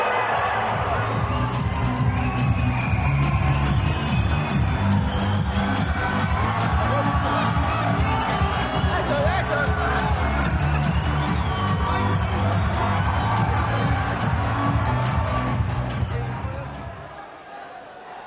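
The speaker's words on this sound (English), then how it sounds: "the crowd loves it" A boxing arena crowd roars and cheers continuously, loud and dense with shouts and whoops, under overlapping talk, before fading near the end.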